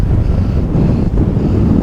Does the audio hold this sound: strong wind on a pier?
yes